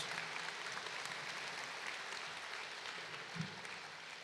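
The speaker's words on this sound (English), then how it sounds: "So let's have another round of applause for the valedictorian and salutatorian of KCHS." Crowd at an indoor arena promotion ceremony applauds student honorees, a faint, distant, even patter of many clapping hands sustained throughout, with one brief low thump near the end.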